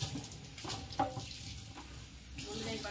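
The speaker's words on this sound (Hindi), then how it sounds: "धुल गए बर्तन।" Dishes being washed under a running kitchen tap, with water splashing softly and the clatter of utensils and plates coming in short bursts, quiet and close.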